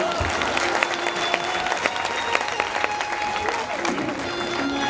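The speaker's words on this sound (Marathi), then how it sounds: "एवढं सगळं करणाऱ्या आमच्या बाईंच्या पण नावाने एकदा टाळ्या वाजवून द्या" Sustained audience applause during a Ganesh festival Ganpati Mahapuran religious discourse: dense, steady clapping from a crowd filling the whole stretch, with scattered voices mixed in.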